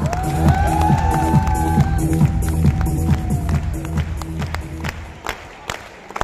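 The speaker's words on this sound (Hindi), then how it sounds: "तालियां" A packed stadium crowd of thousands at an event bursts into loud applause and cheering, with a sustained roar and shouts that gradually thin out toward the end.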